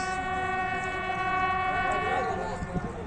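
A Pakistan Railways train hauled by PH20 locomotive 8301 sounds a long, steady horn at Nur Junction, a loud, sustained multi-tone blast over rumbling rail noise.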